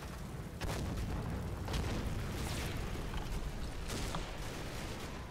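Mortar fire in a war video game: a few muffled booms at irregular intervals over a steady low rumble, moderately distant with no voices.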